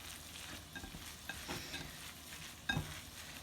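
Burger meat is worked by hand with teriyaki and Worcestershire sauce, making faint wet squishing and slapping sounds in short soft bursts, with one slightly sharper knock near the end.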